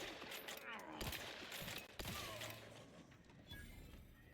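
Rifle shots in The Outer Worlds 2 crack out as sharp bursts near 1 and 2 seconds, with mechanical creaks and a busy game soundscape around them.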